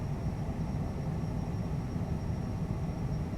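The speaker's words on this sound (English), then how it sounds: "Gonna spool up before brake release" Twin jet engines of a CJ4 business jet in Microsoft Flight Simulator spooling up before brake release on a short runway, a steady, dense low roar with a faint high whine holding constant throughout.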